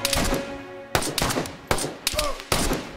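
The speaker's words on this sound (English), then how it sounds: "I'm hearing the shots" Gunfire in the video game DayZ during a firefight: four or five sharp, loud shots at uneven intervals over a rumbling background, each ringing briefly before the next crack.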